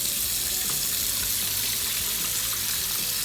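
Water running from a tap into a sink being filled for dyeing wool roving, a steady close hiss and splash of flowing water with no talking.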